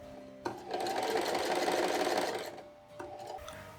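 A sewing machine runs in a single steady burst of about two seconds as it stitches a sleeve piece to an underarm piece for a medieval Viking serk. It starts and stops with short clicks, close by and with no voices.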